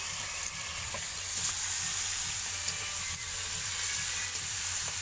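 Curry sizzling and frying in a pot on a clay stove in a village kitchen, a steady hiss with soft rhythmic stirring scrapes underneath, close and continuous.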